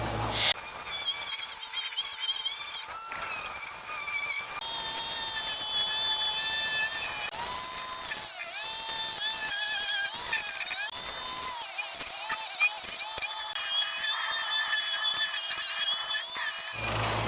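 DeWalt wire wheel stripping rust from Mercedes R107 engine bay parts, a loud continuous high-pitched whine with harsh abrasive scraping that wavers as pressure changes, starting and stopping abruptly, alone with no speech.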